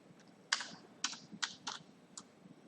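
Several crisp bursts of key clacks on a computer keyboard, irregular and close, with short pauses between quick strokes, in a quiet room.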